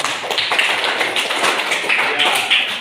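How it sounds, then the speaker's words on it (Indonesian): Students in a classroom clap their hands together, a brisk continuous patter of many overlapping claps with some voices underneath. "Oke, baik, kita tepuk tangan."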